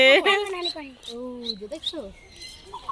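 Several birds chirp and tweet in quick bursts, close by at a zoo, mixed in with a person talking excitedly over them.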